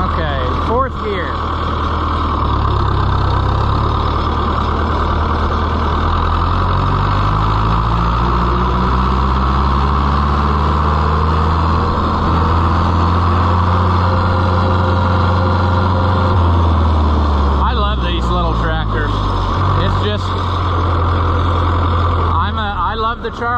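An Oliver 1365 utility tractor engine runs with a deep, steady diesel rumble, its pitch rising and falling as it works through gears, while someone talks over it.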